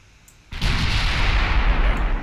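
Heavy naval gunfire from a warship in the Ultimate Admiral Dreadnoughts game: after a faint lead-in, one loud booming salvo breaks out and becomes a sustained, dense roar of overlapping shots and rumble, heard on its own.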